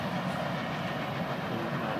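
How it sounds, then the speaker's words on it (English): A long FEC freight train rolls past close by, a continuous loud rumble and rattle of railcars filling the whole stretch. "What a nice train."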